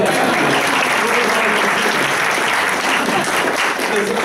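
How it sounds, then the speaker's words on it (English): An audience at a multifaith peace conference gives sustained, dense applause at a constant loud level from start to finish. "we need to give Kusum a really big round of applause"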